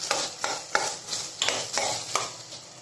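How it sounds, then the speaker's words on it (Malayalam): Gooseberry pickle with mustard-fenugreek masala stirred in a pan over a low flame: a steady, rhythmic scraping, roughly three strokes per second, close and fairly loud, with a soft sizzle underneath. "നന്നായിട്ടൊന്ന് മിക്സ് ചെയ്യാം."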